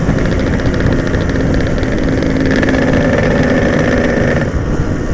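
A motorcycle engine runs nearby with a steady, even mid-pitched drone and a faint whine on top, holding constant before easing slightly near the end, with no talk over it.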